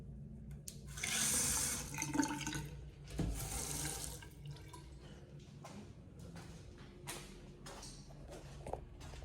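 Water running from a sink tap in a campground park's men's restroom, a close rushing stream in two bursts followed by quieter drips and splashes, with no talking.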